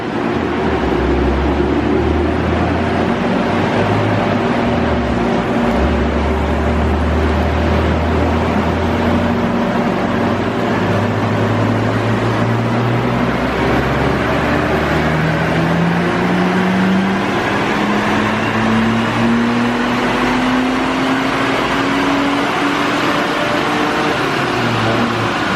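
A high-mileage Saab 9-3 Turbo X engine runs hard on a dyno, a loud continuous roar with a rising tone as it climbs through the revs, steady throughout with no talk.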